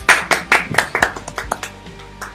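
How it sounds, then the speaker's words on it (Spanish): A church congregation briefly applauding during a sermon, a burst of loud close claps that quickly thins into a few scattered hand claps before fading out. "Dar un aplauso al Señor"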